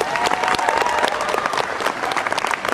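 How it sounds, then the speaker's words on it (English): Audience applause for Christopher Judge at the Armageddon 2008 convention in Wellington, a dense, steady crowd clapping that holds loud and continuous throughout with no talk over it. "if I can have a huge round of applause for Mr."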